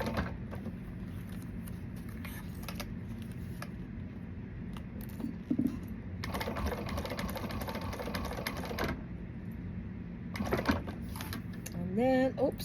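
A sewing machine stitches fabric for an Allegra pattern in short, rhythmic bursts with pauses between runs, while a voice talks over it.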